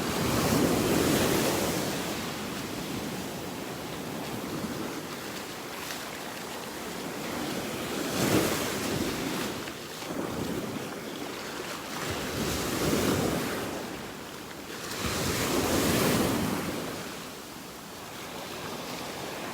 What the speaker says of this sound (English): Just love watching these waves crashing in these trees here.